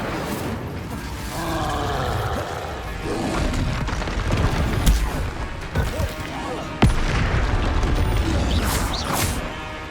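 Fire and explosive spell blasts go off in a Hogwarts Legacy battle: repeated booms and crackling bursts come at irregular intervals over a rumbling, busy game soundscape, with a few sharper impacts standing out.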